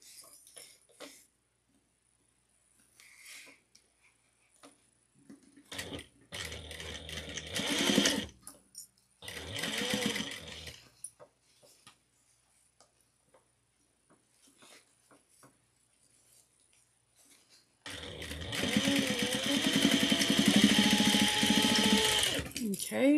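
A sewing machine stitches a quarter-inch seam across fabric for a small zippered pouch, with short bursts of stitching early on and a long steady run near the end, close by, and a voice speaking between runs.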